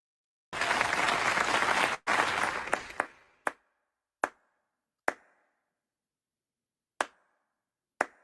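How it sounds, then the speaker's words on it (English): Studio audience applause greets a guest walking onto a talk show stage, a dense burst that cuts off abruptly, then a few ragged claps and several single sharp claps spaced out, fairly faint. "Clap one more time."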